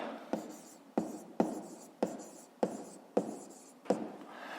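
Writing on a board during a fifth-grade maths lesson: about seven brisk, evenly spaced strokes, each a sharp tap followed by a scratchy drag, close and clear with no talk.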